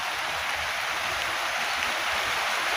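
Light rain falls onto a pond outdoors, a steady broadband hiss of drops on water that holds evenly throughout, moderately loud with no voices.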